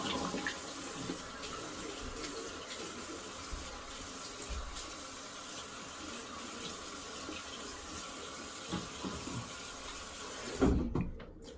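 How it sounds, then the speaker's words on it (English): Running water from a tap rinsing a hollow-ground straight razor, a steady close hiss of flow that carries on throughout and ends with a short clatter. "I'm just gonna rinse."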